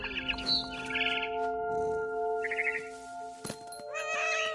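A cat's meow sounds in What Remains of Edith Finch, with soft bird chirps and a steady musical drone around it, close and moderately quiet.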